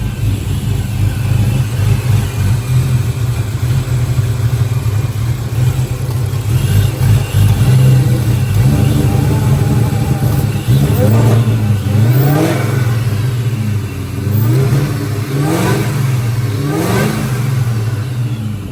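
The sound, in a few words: Terminator Mustang Cobra engine revving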